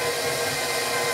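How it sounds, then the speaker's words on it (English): Electric kitchen mixer running in a home kitchen, a steady, even whir held at constant speed for about a second with no talking. "using the mixer is easier for me"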